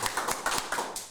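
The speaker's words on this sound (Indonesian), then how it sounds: "Tepuk tangan!" A few people in a podcast studio clap their hands, a short burst of distinct close claps in uneven rhythm.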